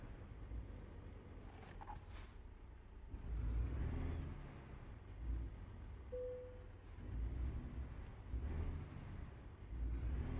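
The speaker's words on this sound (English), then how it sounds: "it starts backfiring and sputtering" Truck in American Truck Simulator pulling away, its engine rumbling and surging unevenly with rough, sputtering bursts and a short whine, fairly close and without talk.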